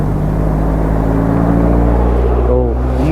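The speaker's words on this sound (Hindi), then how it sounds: "तो फ़िलहाल तो गाड़ी और मोटरसाइकिल यही सब निकल रहे हैं" Cars and motorcycles pass by on a mountain road on the route from Keylong to Leh, as a loud continuous engine rumble and whir with a rising revving tone near the end.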